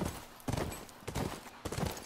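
Horse hooves clip-clop in The Last of Us, four spaced thudding footfalls at an even walking pace, fairly close, with no talk over them.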